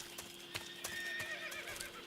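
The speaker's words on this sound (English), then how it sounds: "I heard a horse" A horse in the Metal Gear Solid 3 video game neighs with a rising, wavering whinny, and hooves clip-clop in a few sharp, evenly spaced beats, loud and close.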